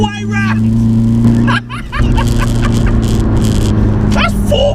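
Tuned VW Golf PD diesel hot hatch, about 310 bhp and 500 Nm, pulling hard in fourth gear with a steady loud engine drone and a brief dip partway, while people talk over it.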